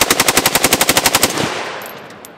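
A CMMG rifle fires a rapid burst of about fifteen evenly spaced shots at steel targets outdoors, loud and close, followed by a fading echo with faint pings from the steel.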